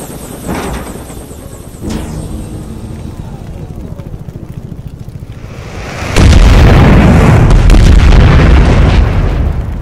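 A cameraman helicopter arrives in a Skibidi Toilet fan animation: a whooshing, choppy rotor approach with a few sharp hits, then a sudden loud, rumbling explosive roar that sustains to the end.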